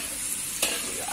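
Tempeh sizzles in hot oil in a pan, a steady close hiss of frying broken by one brief clatter partway through.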